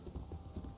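A horse's hooves clip-clop in a quick, faint rhythm of several soft thuds in a historical video game, with no voices.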